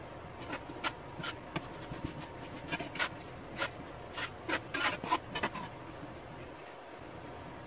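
Fresh pasta dough of flour and egg being folded and worked on a board with a bench scraper, giving repeated soft scraping and rubbing strokes at close range in an irregular rhythm, with no talking.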